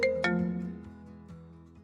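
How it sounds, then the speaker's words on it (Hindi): A phone ringtone plays alone, a melodic electronic chime with bright repeated tones that ring out and slowly fade. "उसका ध्यान उसके फोन की घंटी बजने पर टूटा।"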